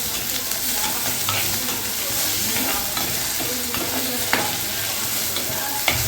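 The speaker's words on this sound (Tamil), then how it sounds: "ரெண்டு தக்காளியை போட்டு வதக்க போகிறோம் இதை வதக்கணும்" Two tomatoes sauté in a hot pan, a steady loud sizzle and frying hiss with repeated stirring scrapes of a spatula, close up and without speech.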